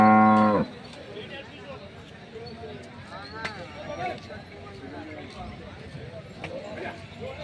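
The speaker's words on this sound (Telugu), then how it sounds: "బుల్లు చూడొచ్చు, మంచి మంచి బుల్స్ కూడా రావడం జరుగుతుంది." Buffaloes and bulls at the Erragadda wholesale buffalo market in Hyderabad, with a few moos and lows rising from a busy outdoor background of crowd chatter and hoof clatter.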